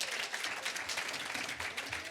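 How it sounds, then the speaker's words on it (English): An audience at a gubernatorial debate breaks into dense, sustained clapping for the candidates, filling the whole moment without a pause. "A round of applause for the candidates, please"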